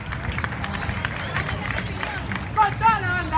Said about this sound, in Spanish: Recibamos con un fuerte aplauso a la banda marcial